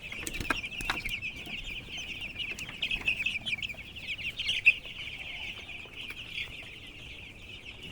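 Eight-day-old broiler chicks fill a poultry farm shed with a faint, steady chorus of high peeping that carries on throughout, with a few soft knocks and no talking.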